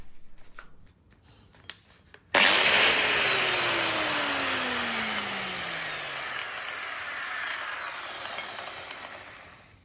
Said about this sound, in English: The Ryobi angle grinder has been fixed in this video